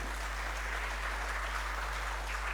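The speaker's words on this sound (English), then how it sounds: "A round of applause for our panelists." Applause for the panelists at a constitution week event rises as a faint, even wash of many hands clapping, far off and low in level beneath a steady hum.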